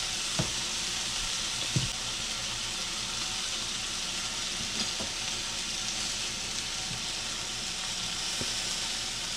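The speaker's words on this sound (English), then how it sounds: "Let that butter melt in on top from there." Butter pats melting and sizzling on charcoal-grilled beef steaks, a steady broadband fry hiss running throughout with a few soft pops and crackles, close and alone without talk.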